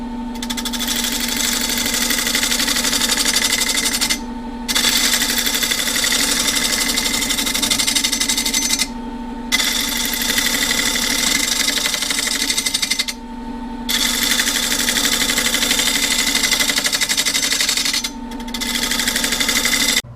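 A wood lathe cutting the outside profile of a live edge walnut bowl with a bowl gouge, a loud steady motor whine and cutting buzz, broken by several short pauses, no talk.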